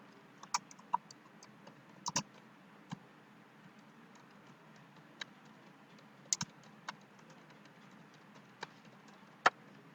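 Sparse keystrokes tap on a computer keyboard, isolated clicks and short bursts spaced irregularly over a quiet hum, close and fairly soft with no talking.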